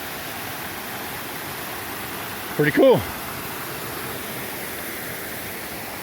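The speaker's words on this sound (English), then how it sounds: "right out of the gap, we got a nice little waterfall here." A small waterfall beside a mountain trail gives off a steady, even rushing hiss that fills the background throughout, with a brief spoken phrase partway through.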